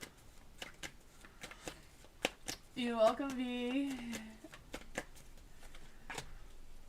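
Tarot card deck shuffled by hand, a run of sharp snapping card flicks and soft riffles close up, with someone speaking briefly midway.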